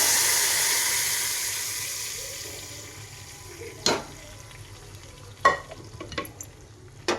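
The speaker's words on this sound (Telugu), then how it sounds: "పప్పు తాలింపు వేసేసుకోవాలి" Steady frying hiss fades gradually, then a few sharp sizzling bursts and clinks of stirring follow near the end as hot tempering is added to cooked mango lentils.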